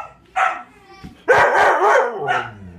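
A puppy barks and yips close by in a few sharp, loud bursts with short gaps between them, with no voices over it.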